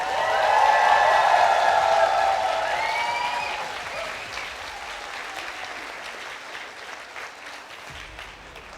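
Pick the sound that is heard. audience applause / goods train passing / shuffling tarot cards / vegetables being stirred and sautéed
audience applause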